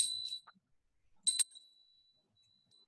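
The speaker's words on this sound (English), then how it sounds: "The length of the bell sound" A bell rings in two quick, faint strikes separated by silence, each leaving a thin, lingering tone in an otherwise quiet space.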